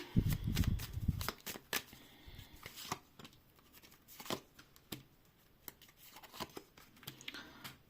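Tarot cards are shuffled and riffled in quick crisp bursts, with light flicks and taps following in an otherwise quiet close room.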